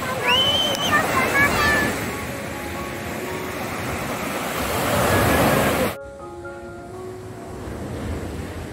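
Sea waves wash at Empu Rancak beach in Jepara as a broad surf hiss mixed with wind rumble, loud for several seconds and then dropping suddenly to a quieter background.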